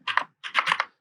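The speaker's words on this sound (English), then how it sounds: "You can see me typing in my name here." Two quick bursts of keystrokes on a computer keyboard, close and crisp clicking, with a short gap between them and no talking.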